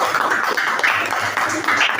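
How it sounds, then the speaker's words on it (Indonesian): An audience applauds after a group finishes its classroom presentation, a dense, steady wash of many hands clapping together for a couple of seconds, with no talk over it. "Oke, tepuk tangannya dong."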